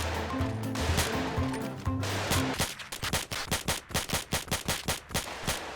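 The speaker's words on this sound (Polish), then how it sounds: "tu się ludzie strzelają" Video game gunfire on a crowded online server: scattered shots over background game audio, then a rapid burst of evenly spaced automatic-weapon shots through the second half.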